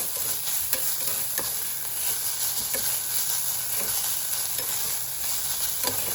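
Sliced onions sautéing in a pan for biryani, a steady close sizzle with intermittent stirring scrapes and clicks throughout, no talking.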